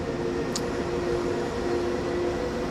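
Steady low rumble of a long train consist rolling through a wet, foggy German landscape on a rainy day in the Train Sim World simulation game, constant and continuous with a brief high hiss partway through.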